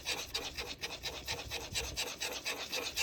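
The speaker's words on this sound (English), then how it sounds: "I mix it together and whisk together" A whisk scrapes rhythmically through a sourdough mixture for egg pasta, a close, steady series of quick rasping strokes in a bowl with no voices.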